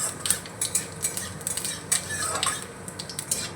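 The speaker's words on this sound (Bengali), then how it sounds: "ফোড়নে দিচ্ছি এলাচ, দারচিনি আর লবঙ্গ। আর দেবো 1/2 চামচ মতো গোটা জিরে। ফোড়নটা ভালো করে ভেজে নেব।" Whole cardamom, cinnamon, cloves and cumin are fried and stirred in a pan for tempering, giving brisk metallic clinks and scrapes of a utensil against cookware over a faint sizzle.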